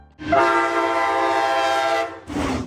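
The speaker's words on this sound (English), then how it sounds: "today, let's look into train horns" A train horn sounds loud and close in one long sustained chord-like blast of about two seconds, followed after a brief gap by a second, shorter blast.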